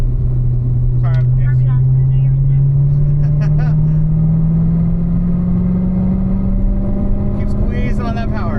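Race car engine on a track, a steady loud drone rising slowly in pitch as the car picks up power, continuous throughout with brief radio voices over it.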